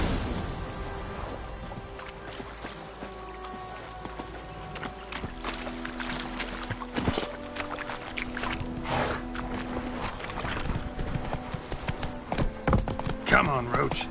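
Hooves of the horse Roach clip-clopping in The Witcher 3: Wild Hunt, a steady trotting rhythm over ambient game background, with a voice speaking over it partway through.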